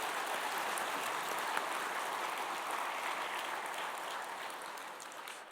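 A church congregation at an Easter Sunday intergenerational worship service claps together in a dense, even wash of applause that stays steady and gradually fades toward the end.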